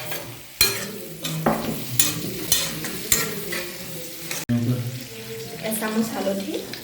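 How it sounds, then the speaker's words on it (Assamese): Onion half-fried in a pan with ginger garlic paste added, for a pork dish: bursts of sizzling, spoon-stirring clatter and scraping, brief pauses between strokes, with some faint water sounds in the kitchen. "পিঁয়াজটো আধা ফ্ৰাই হৈ গ'ল, সেইকাৰণে মই অকণমান আদা ৰচুনৰ পেষ্ট এতিয়া দি দিম"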